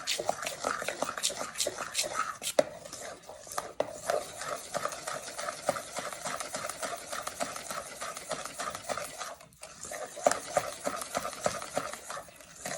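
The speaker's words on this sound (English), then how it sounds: "Continue stirring." A spoon stirs a lumpy mixture in a bowl with rapid, continuous scraping and clacking strokes in a steady rhythm, close and moderately loud, broken briefly near the end.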